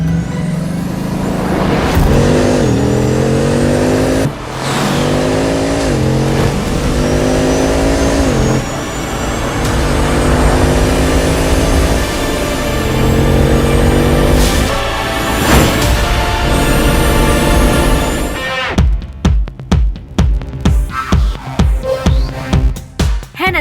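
A Hennessy Phantom GT supercar with a twin-turbo 7.0-litre engine revs hard through repeated rising sweeps, loud and close, then ends in a burst of sharp, rapid crackles and pops.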